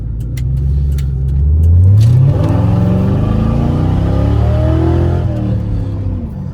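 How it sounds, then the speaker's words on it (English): A New Edge Ford Mustang GT V8 revs hard as it accelerates away from a parking lot, with a loud, rising engine note that climbs through the gears and stays strong to the end. "You know, this car is pretty quick for a new Edge."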